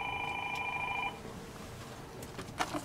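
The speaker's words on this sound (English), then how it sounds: "Oh, there's the phone again" A telephone rings in a video game, a steady electronic trill that stops after about a second, then quiet background with a few faint clicks.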